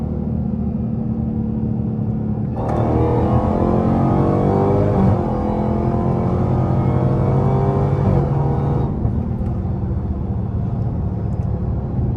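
A Dodge Hellcat's engine accelerates hard on a suburban road, a loud, close roar that surges in abruptly, holds for about six seconds with a rising pitch, then cuts back to a lower drone.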